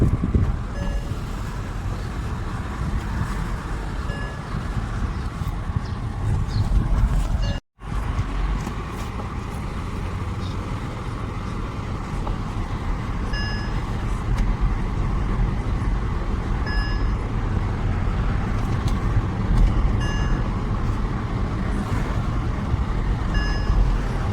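A Mercedes-Benz on a road test drive during a front wheel alignment check gives a steady rumble of engine and road noise, with regular high electronic beeps that stop briefly and then resume.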